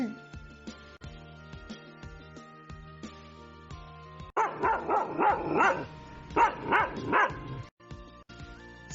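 A dog barks several times in a quick series, loud and close, after a quieter stretch of soft tones.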